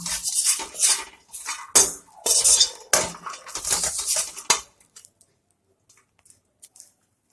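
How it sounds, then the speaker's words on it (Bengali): Sidol dried fish frying in a pan, stirred with a utensil that scrapes and clatters against the metal in busy bursts for about five seconds, then only a few faint taps before falling quiet. "শীতলটাকে একটু ভালো করে ভেজে নেব।"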